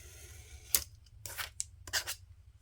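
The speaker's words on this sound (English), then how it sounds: "I'm going to use my X-Acto knife and cut these pages off." An X-Acto knife draws along a ruler, slicing bullet journal pages in a few light separate strokes, each a short crisp scrape near the mic, with quiet pauses between.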